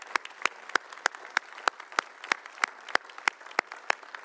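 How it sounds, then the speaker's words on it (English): Slow, evenly spaced claps in a city council chamber, sparse and distinct, greeting a visiting mayor's delegation; each clap sharp and separate rather than a dense crowd wash. "Let's give them and her delegation a round of applause."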